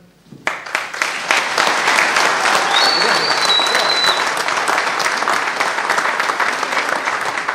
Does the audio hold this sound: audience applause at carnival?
yes